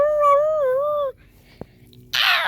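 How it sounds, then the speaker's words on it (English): A single wolf howl, clear and fairly loud, rises and wavers for about a second before breaking off into near silence and then a burst of hiss. "Don't you howl and howl?"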